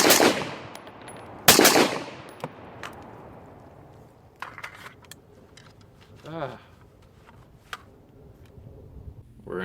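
Gunfire from a Daniel Defense DDM4V11 Pro rifle with a Geissele trigger, starting with two loud, close shots early and followed by fainter scattered pops and outdoor ambience, with a voice briefly heard.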